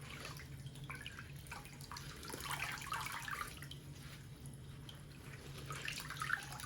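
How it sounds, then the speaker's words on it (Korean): Cold running water from a tap pours over blanched napa cabbage in a sink, a quiet, steady splash and trickle with soft drips and handling sounds, over a low background hum. "이렇게 씻어 놓은 배추기 때문에 한 번만 헹구시면 돼요. 찬물에 한 번만."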